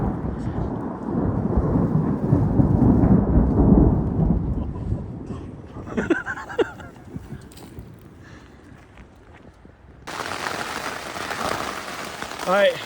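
Thunder from a storm in the Sierra backcountry: a heavy, low rumble rolls for several seconds, then fades into quieter rumbling, with a voice talking over part of it.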